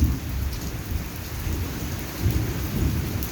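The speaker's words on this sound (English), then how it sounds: "Can you hear that thunder?" Heavy rain pours steadily at the end of a rainy season while deep thunder rumbles through it, the low roll swelling and fading under the constant hiss of the downpour.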